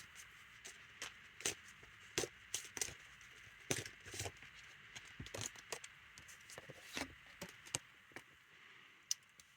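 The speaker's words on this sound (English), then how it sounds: "I'll just shuffle another deck and see what the next card is" Quiet, crisp riffling and tapping of playing cards, with sharp flicks and soft slaps coming in irregular bursts close by.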